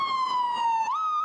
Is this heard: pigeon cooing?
no